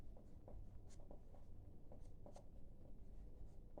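Pen or chalk writing numbers during a maths lesson, faint scratchy strokes and taps in an irregular rhythm, very quiet and close with no talk.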